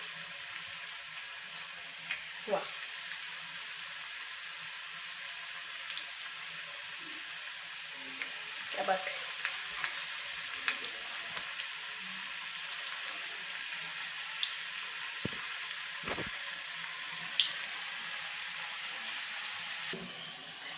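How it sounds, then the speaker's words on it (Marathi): Paneer and mixed vegetable bhaji deep-frying in oil give a steady, moderate sizzle throughout, with occasional soft clicks and brief knocks from handling, and no talking. "आता अशाच पद्धतीने मी दुसरी बॅचही देखील तळून घेत आहे"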